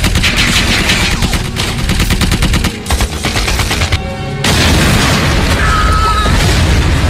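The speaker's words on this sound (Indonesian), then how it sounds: "Akhirnya Thomas tertembak sedangkan dia sudah menyalakan bom." Gunfire and a bomb blast from a war film set in Indonesia: dense, loud crackling shots and booms fill the scene, with a short dip before a heavy explosive roar sweeps in and sustains to the end.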